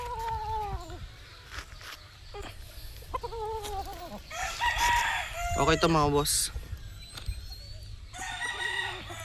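A gray gamecock with Lancy and Apple Spark bloodlines crows in a loud drawn-out call, with shorter clucks and other bird calls around it, under a voice on a windy day.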